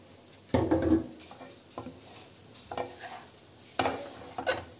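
Fried rice drizzled with sesame oil, tossed and stirred in a hot pan: a few distinct scraping strokes of the spoon against the metal over a soft frying sizzle, close and fairly loud.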